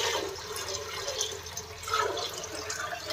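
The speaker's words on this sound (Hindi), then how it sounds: "5 लीटर में से मैंने कम से कम 3 लीटर के आसपास पानी मैंने डाला है" Water poured from a 5-litre bucket into a pot for making homemade clothes starch, a soft, steady splashing and gurgling pour heard close by.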